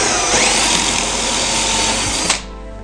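A power drill bores into the wooden bottom of a budget gaming table, a loud, close, continuous whine lasting a couple of seconds before it cuts off abruptly.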